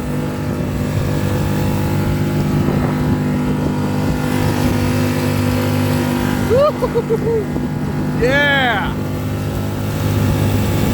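A small outboard engine drones steadily as a MARS PSM365 inflatable boat planes over water, with a brief voice and a whistle-like sweep over the engine noise.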